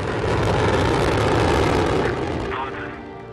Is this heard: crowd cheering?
no